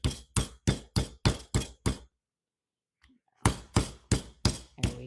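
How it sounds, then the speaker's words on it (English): Pork tenderloin pieces are pounded flat with a hammer in a home kitchen: seven sharp, evenly spaced thuds, a short silent pause, then another run of six regular blows, close and crisp. "hammering them out makes them a little bit bigger too, makes them nice and tender."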